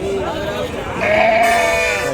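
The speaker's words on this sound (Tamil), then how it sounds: "செம்மறி ஆடிங்க ஜாஸ்தியாக வருதுங்க" Sheep bleat loudly and close at a busy goat and sheep market in Krishnagiri, with overlapping wavering calls against a crowded background murmur.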